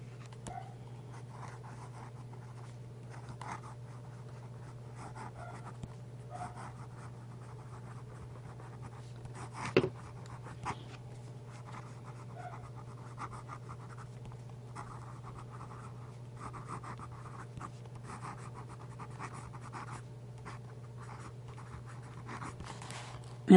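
A fountain pen with a 1.0 stub nib writing on paper, heard as soft, continuous scratching of steady strokes at close range over a low electrical hum, with one brief louder scrape partway through.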